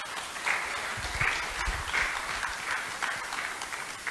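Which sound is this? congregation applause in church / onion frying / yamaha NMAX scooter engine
congregation applause in church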